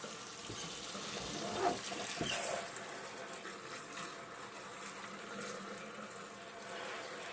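Hot water from a hand sprayer rinses the film coating off a hydro-dipped part in a sink, a steady close hiss and splash that runs the whole time with small surges, no talk.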